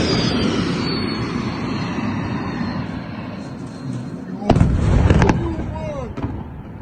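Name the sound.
hypersonic missile strikes exploding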